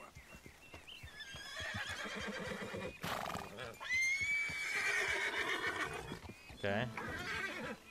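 A horse in Red Dead Redemption 2 whinnies loudly and close, with clip-clopping hooves underneath, while someone speaks calmly over and between the calls.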